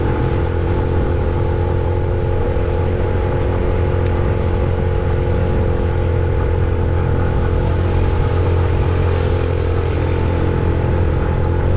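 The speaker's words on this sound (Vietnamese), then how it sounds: "xe tải chở hàng xuống đó" A steady, heavy engine rumble and road drone fills the whole stretch as a cargo truck heads down a wet mountain road in Vietnam, the vehicle noise constant and close with faint clatter on top.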